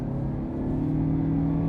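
Toyota Camry accelerating at full throttle from about 37 mph, a steady loud engine drone with a slowly rising pitch heard from inside the car, no talk.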